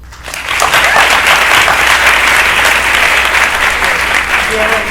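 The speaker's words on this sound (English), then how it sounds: "could I quickly get a round of applause for Cameron Riley and Cameron Curry" A panel discussion audience at a film event breaks into loud, sustained applause, the dense clapping rising quickly and staying steady and close throughout.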